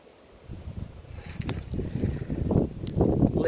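Outdoor wind buffets the microphone as low rumbling gusts that swell from near quiet into a strong, continuous roar and keep building toward the end.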